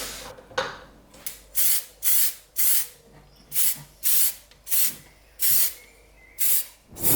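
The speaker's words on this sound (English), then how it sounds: "You don't want to spray too much at once." Plastic primer sprayed from an aerosol can onto a 3D-printed part in about nine short, even hissing bursts with brief pauses between them, close and clear.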